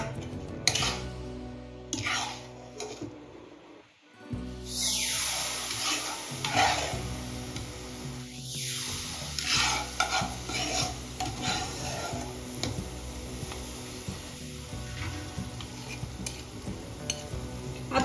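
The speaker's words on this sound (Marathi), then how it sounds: "दुधामध्ये हे पावडर छान मिक्स करून घ्यायचं" A spoon stirs roasted sabudana powder into melted sugar and milk in a pan, scraping and clinking against the metal over a soft sizzle, with irregular strokes and a brief pause near the start.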